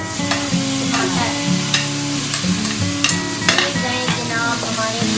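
Food browning in a pan for a curry, a loud steady sizzle broken by scraping stirs and clinks of a utensil against the pan, with no talking.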